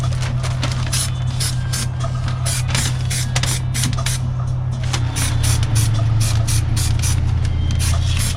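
Spray paint hisses in rapid, repeated bursts under the bonnet of an Austin Allegro, loud and close over a steady low drone, with no voices.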